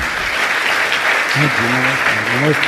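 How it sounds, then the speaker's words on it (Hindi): Audience applause for young people at a spiritual question-and-answer gathering, a steady dense clapping throughout with a voice speaking over it in the second half. "एक बार कोतमा के युवाओं के लिए जोरदार ताली"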